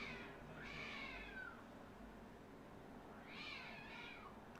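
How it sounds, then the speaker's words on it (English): A cat meows outside, two drawn-out, wavering cries a few seconds apart, faint and somewhat distant over a low background rumble with no talking. "Can you hear that cat?"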